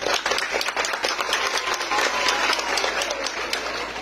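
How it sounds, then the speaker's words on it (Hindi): Audience applause at a Hindi poetry recital (kavi sammelan), a steady, dense crowd clapping that holds at moderate loudness throughout, with some sharper individual claps poking out of the mass. "एक बार सारे लोग तालियां बजा दीजिए"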